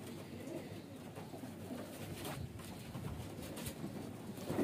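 Young highflyer pigeon, a fledgling with water-stained beak, gives soft cooing and bird calls at close range over steady ambient noise, with no talking.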